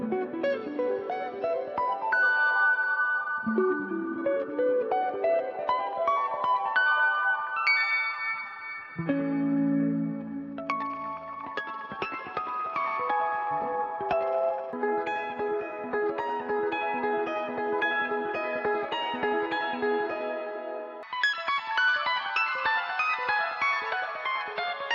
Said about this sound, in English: add like real weird, wild delays and reverb.